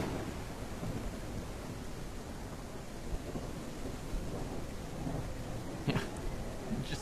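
Steady heavy rain pours throughout a thunderstorm in the dinosaur survival game The Isle, a dense continuous hiss with low rumbling underneath and a couple of faint brief knocks near the end.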